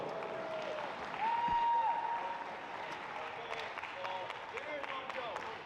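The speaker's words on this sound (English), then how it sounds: "give them another round of applause" Audience applause at a powerlifting pro series finals awards ceremony, a crowd clapping fairly faintly as a diffuse backdrop while a voice speaks over it and a brief tone rises in the middle.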